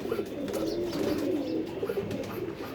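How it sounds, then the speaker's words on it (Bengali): A Mali pigeon in a home loft coos low and rolling, close and continuous against a light background murmur. "ফার্স্টে যে কবুতরটা ধরবো আমরা এটা হলো একটা মালি কবুতর"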